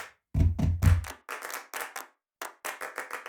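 Choir members clap their chests and stomp their feet in a cappella body percussion, producing a quick burst of three heavy thumping claps and then a series of lighter, evenly spaced claps, all close and with no singing or talk.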